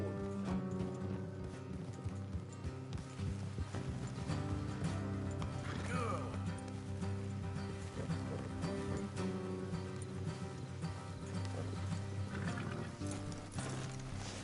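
Horse hooves clip-clop steadily over a dense Red Dead Redemption 2 soundtrack, with an occasional whinny and faint talk mixed in.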